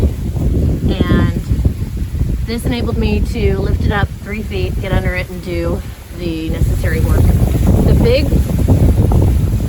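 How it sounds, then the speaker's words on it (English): Gusty wind buffets the microphone with a continuous low rumble while someone talks over it outdoors at a 1930s off-grid cabin. "sorry about the wind"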